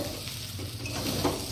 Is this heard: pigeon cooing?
no